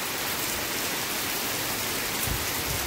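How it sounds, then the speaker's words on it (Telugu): Heavy rain falls in forest at K Gudi wildlife area in BR Hills, a dense, steady broadband hiss of downpour that stays close and unbroken throughout, with no voices. "వర్షం అయితే ఎక్కువైంది."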